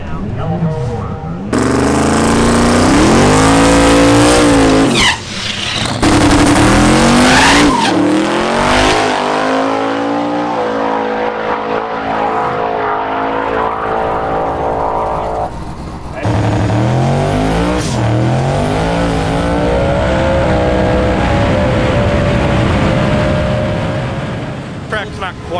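Race cars at a drag strip roar and rev loudly, with engine pitch sweeping up through gears across several passes, plus some tire noise and brief breaks between runs. Voices talk over the engines.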